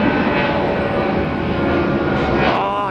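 A Boeing 757 jet airliner departs Tampa International Airport, its engines producing a loud, continuous roar with a rising whine that stays close and dominant throughout.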